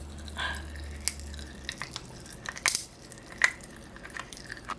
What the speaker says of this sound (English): I love biting them because they burst.